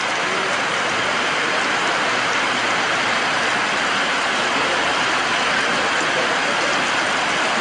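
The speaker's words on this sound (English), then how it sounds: "It's been raining for 20 minutes." Heavy storm rain from Storm Nana in Honduras pours continuously onto a concrete road and surroundings, a dense, steady hiss of downpour with water flowing, unbroken for the whole stretch with no talking.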